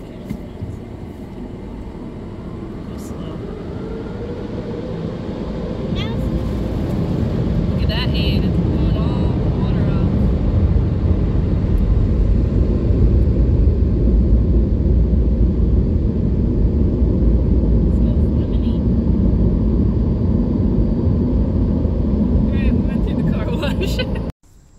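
A car driving on an errand to fill the tires with air, giving a steady low road rumble and engine hum that builds after a few seconds, with people talking inside over it, then cuts off abruptly at the end.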